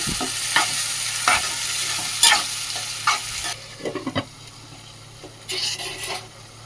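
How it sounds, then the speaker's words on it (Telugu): A tomato curry mixture for an egg and drumstick dish is stirred in a sizzling pan. Brisk scrapes and knocks of the spoon come in irregular bursts over a steady frying hiss. "టమాటో యాడ్ చేసుకున్న తర్వాత మొత్తం అది ఎంత కలిసేంత వరకు కలుపుకొని"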